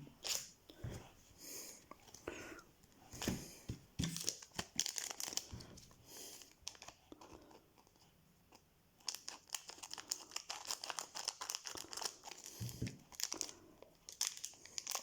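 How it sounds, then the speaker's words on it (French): Final Fantasy TCG Opus XII Crystal Awakening booster packs are torn open at close range, with bursts of foil crinkling and ripping separated by a quieter pause midway. "j'ouvre les boosters en même temps"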